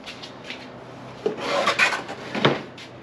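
Screws are driven into a pre-drilled plastic hive component, making short grinding, rasping bursts close up that rise and fade over a few seconds in a quiet space.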